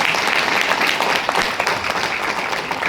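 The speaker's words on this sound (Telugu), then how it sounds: "సార్కి ఒకసారి బిగ్ రౌండ్ ఆఫ్ అప్లాజ్" A crowd applauds steadily, dense clapping filling the whole stretch at an even, fairly loud level.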